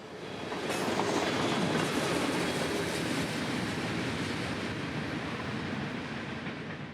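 A short Lakeland-bound freight manifest train rolls past loud and close, its steady rumble and wheel clatter swelling in after a second and holding throughout.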